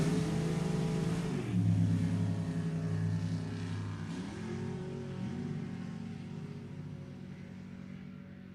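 Two drag racing cars with really big motors, one a 400 Chevy, roar loudly together in a sustained engine blast with shifting pitch and revving changes, heard close with no talk.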